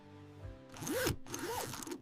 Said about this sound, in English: Zippers are tested through thousands of cycles to ensure smooth performance.